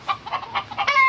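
A person imitates a crow's call with a run of short, loud, close cawing bursts that ends in one longer drawn-out call.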